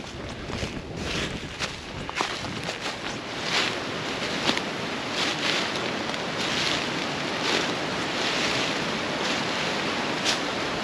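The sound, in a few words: fast-flowing river water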